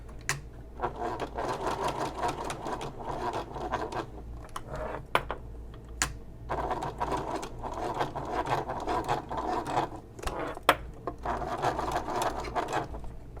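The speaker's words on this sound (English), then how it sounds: "I'm trying to sew right over the line that I already top stitched." Domestic sewing machine top-stitching a canvas messenger bag, a loud steady mechanical whir in long runs broken by short pauses and sharp clicks.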